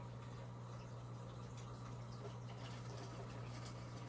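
Aquarium water from a saltwater coral tank pours steadily into a bucket, a continuous close gushing wash with a low hum beneath, no talk.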